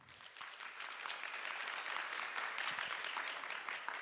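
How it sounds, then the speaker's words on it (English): Audience applause at an international conference panel discussion, fairly quiet and distant, many hands clapping in a steady wash that builds slightly and holds for a few seconds. "please welcome her with a big round of applause"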